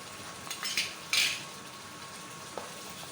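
Turmeric, red chili and crushed chili are stirred into bhindi gosht in a pan, giving a soft frying sizzle with a few scraping spoon strokes and a brief clink, close and otherwise quiet.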